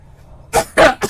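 Three quick, close coughs from a sick person, coming after a brief quiet pause, the middle cough the strongest and the last one shorter.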